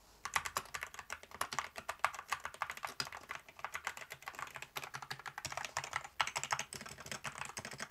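Typing on a stock, unlubed XVX M61 mechanical keyboard, a steady stream of crisp, close keystroke clicks with no voices.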